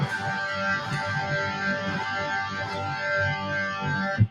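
A distorted electric guitar chord played with its thirds left out, sustaining as a solid, dense tone for about four seconds before a short thump at the end.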